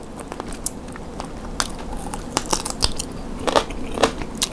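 Crunchy coated fried chicken from a Makro buffet being bitten and chewed close up, a quick series of sharp crackly crunches in irregular rhythm with no talking.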